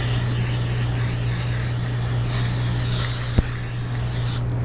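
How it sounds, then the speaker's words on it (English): A Maybelline setting mist bottle sprays onto a face in a close, loud, continuous hiss lasting several seconds, wavering slightly before cutting off abruptly, with a low steady hum underneath and no talking. "really amazing setting mist, it's this one right here"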